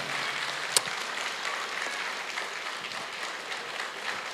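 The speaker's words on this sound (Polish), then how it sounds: "oczywiście, wielkie brawa" Applause from an audience at a children's theatre premiere of Thumbelina, a soft, steady wash of clapping heard from a distance, with one brief louder knock near the start.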